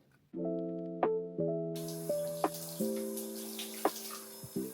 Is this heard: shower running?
yes